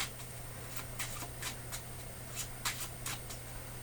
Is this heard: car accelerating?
no